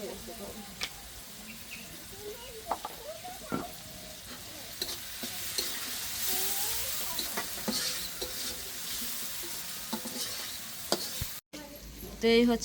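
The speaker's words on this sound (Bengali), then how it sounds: "মাছ ভাজা আর এখানে যে সবজি কাটা নিছি পেঁয়াজ ভাজতেছি এদিকে মাছ রান্না করার জন্য" Fish and onions fry in a pan for a fish dish, a continuous crackling sizzle with occasional stirring clatter, while a person talks over it throughout.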